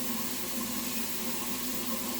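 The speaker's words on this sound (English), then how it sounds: "start filling this up with water" Water runs steadily into a container from a tap, a continuous close gushing rush with a faint hollow tone and no talking.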